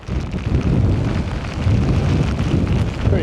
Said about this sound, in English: Right, here's the rain.